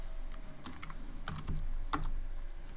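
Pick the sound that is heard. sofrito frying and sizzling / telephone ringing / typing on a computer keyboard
typing on a computer keyboard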